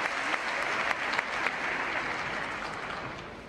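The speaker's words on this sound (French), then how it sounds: "Très applaudi, vous le voyez, par le public." Enthusiastic audience applause rings out at a French Elite championships gala, a dense wash of clapping with a few sharper individual claps standing out, slowly fading toward the end.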